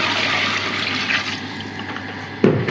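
Three litres of water poured into a cooking pot of meat for a chicken dum pulao, a steady rushing gush that fades slightly before a brief splash near the end, with no talk.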